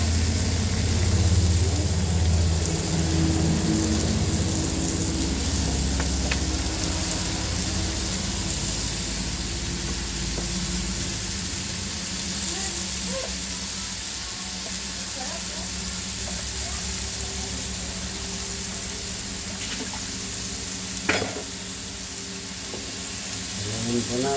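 Papaya sautés in a hot pan for ginisang papaya at labong, giving a loud, continuous sizzle with frying hiss and a brief utensil clink near the end.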